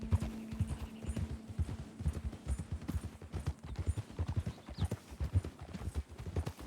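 In the video game Red Dead Redemption 2, a horse's hooves clip-clop in a steady, quick rhythm, close and clear, with a soft snort or whinny mixed in and no speech.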